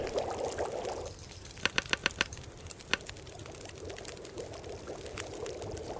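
Water pouring and bubbling as it boils over a fire in The Long Dark, a soft steady hiss with a quick series of sharp clicks and taps in the middle, faint and close.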